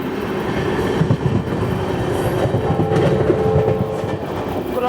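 Train crossing the Yesvantpur express, heard as a continuous rumbling roar with rhythmic wheel clatter, close and steady, with no voices.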